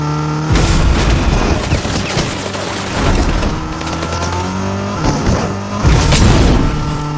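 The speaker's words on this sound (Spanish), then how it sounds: "Voy a agarrar el carro que estaba acá para ir allá rápido" A car is driven in a video game, its engine roaring loudly with rising and falling revs and gear changes, punctuated by a few heavy booms.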